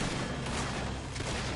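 Gunfire from the Red Dead Redemption 2 video game crackles densely in a short burst, several loud overlapping shots with no pause between them.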